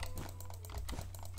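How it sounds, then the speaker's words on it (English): A loud computer keyboard clacks in quick, uneven bursts of keystrokes during a game of Minecraft Hypixel Bed Wars, sounding close to the microphone over a low background hum, with no talking. "all you can hear is his insanely loud keyboard"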